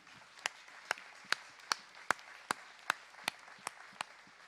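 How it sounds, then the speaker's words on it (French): A conference audience claps at a business event plenary: sparse, evenly spaced single claps, about two per second, fairly faint, with no talking over them. "Et j'ai envie que vous applaudissiez."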